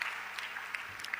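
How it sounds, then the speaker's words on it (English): Audience at an Africa Legacy Summit in a Lagos hotel hall claps, a brief dense burst of applause heard faintly. "Yes, can you clap, clap,"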